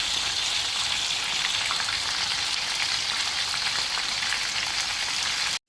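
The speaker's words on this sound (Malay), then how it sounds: "Ayam kita goreng. Goreng dulu guys." Steady, dense sizzling of chicken frying in hot oil, loud and continuous with no talking, cutting off abruptly at the end.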